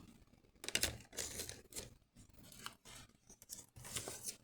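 Scissors snip through paper in a few quick, close cuts, with crisp crunching bursts separated by short pauses.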